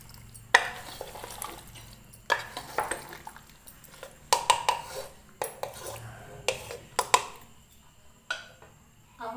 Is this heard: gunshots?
no